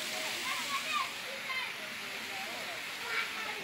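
A forest waterfall in Nepal rushes in a steady, fairly faint roar with soft splashes, while people talk quietly over it.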